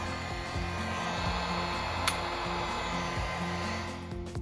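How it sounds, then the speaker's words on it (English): A heat gun on its low setting blows steadily onto a clothes dryer's thermostat, a continuous whooshing fan hum with a faint motor whine and one brief click-like tick partway through. "We will use a heat gun on low, to apply heat to the thermostat"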